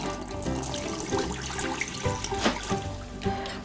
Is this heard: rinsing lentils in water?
yes